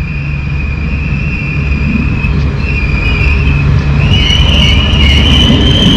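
A loud, steady rumble of the Göller Ekspresi train to Isparta heard from inside a carriage, with a continuous high whine above the low roar.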